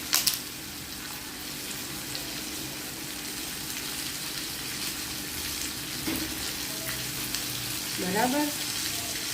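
Okra and potatoes fry with turmeric and asafoetida in a pan over a lowered flame, giving a steady, soft sizzling hiss throughout, with a brief voice speaking near the end.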